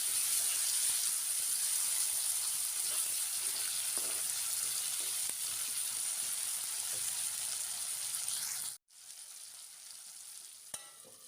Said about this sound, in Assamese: কাটি থোৱা বিলাহীখিনি এতিয়া মই ইয়াতে দি অলপ সময় লৰাই